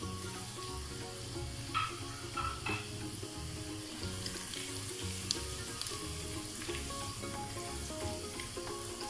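Sliced onions with a tablespoon of whole cumin seeds fry in a pan, a steady soft sizzle running through the whole stretch with occasional stirring scrapes, quiet and close with no talking.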